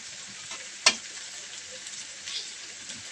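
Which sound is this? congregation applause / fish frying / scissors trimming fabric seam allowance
fish frying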